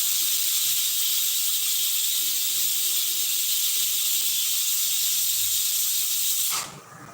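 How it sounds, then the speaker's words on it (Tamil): A pressure cooker cooking dal lets out a loud, continuous hissing steam whistle that holds steady for about six seconds, then cuts off abruptly. "பருப்புக்கு நான் 1 விசில் வந்தோன்னு அதே நம்ம அடுப்பு ஆஃப் பண்ணிடலாம்."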